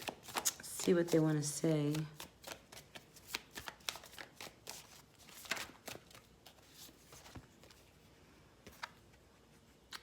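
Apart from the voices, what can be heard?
shuffling tarot cards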